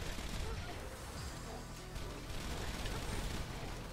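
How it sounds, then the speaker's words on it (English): Repeated pistol fire from Maya in the Borderlands video game, a dense run of sharp shots and booms mixed with game effects, steady and fairly loud throughout. "Let's try the pistol."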